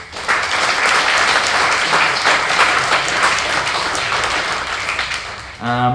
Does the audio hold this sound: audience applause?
yes